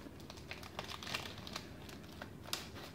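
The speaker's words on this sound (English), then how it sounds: "Ugh, I kind of wrinkled the paper" Sheets of paper crinkle and crackle as planner stickers are peeled away, a faint, close string of small irregular rustles and snaps.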